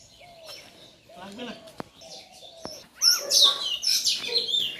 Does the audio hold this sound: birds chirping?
yes